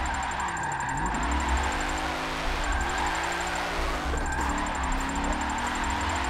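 Drift car engine in the Forza 7 racing game, played on a Logitech G920 wheel, droning steadily with rising and falling pitch as it revs through a slide, with a high electronic whine on top and no talk.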